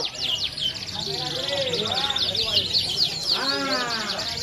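A canary at a songbird contest sings rapid trilling and chirping phrases, close and clear, while someone talks over the song.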